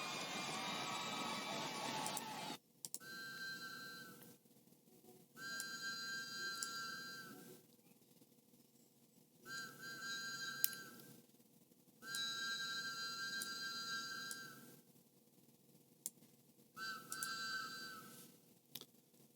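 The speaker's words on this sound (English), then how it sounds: "Shortly after this, you hear whistles." Whistles blown in repeated bursts, five long shrill blasts separated by short pauses, loud and steady with no talk over them.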